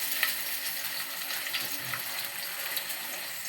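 Large-cut onions fry in a little oil in a pan, a steady, even sizzle heard up close with faint occasional crackles and no talking.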